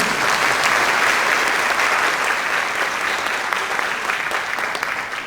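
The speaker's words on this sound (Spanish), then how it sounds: "Recibimos con fuertes aplausos a Óscar Guacho." An audience at a panel forum on domestic aggressors gives sustained, loud applause, a dense steady clapping that fades slightly toward the end.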